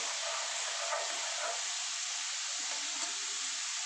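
Dal lentils frying in oil for homemade chanachur give off a steady, soft, even sizzle and hiss close by, without speech.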